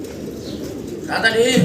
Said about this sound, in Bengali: সাদা রেসার কবুতর দেখেন, চমৎকার এক জোড়া সাদা রেসার